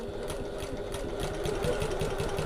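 A sewing machine runs steadily while top stitching a pocket, a close, even rapid rattle of stitches without pause.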